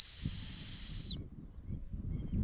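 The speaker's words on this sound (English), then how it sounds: "Constant whistle means lay down." A single constant dog-training whistle for a German Shorthaired Pointer, one loud, steady high-pitched tone held for about a second and then cut off, leaving faint outdoor rumble.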